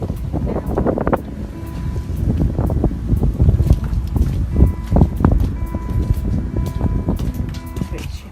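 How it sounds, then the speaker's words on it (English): Outdoors in light snow, wind gusts buffet the microphone with a continuous rumbling roar, and someone speaks under it. "It's a bit windy now."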